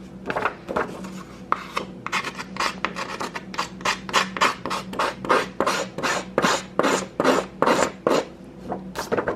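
Repeated rhythmic scraping strokes of a scissor blade against paper edges, about twenty rasping passes in a row, close and fairly loud, with no voices.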